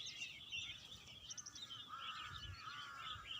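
Birds perched along an electric wire over a paddy farm call repeatedly, a chorus of honking, squawking cries at moderate distance over low outdoor rumble, with no one speaking.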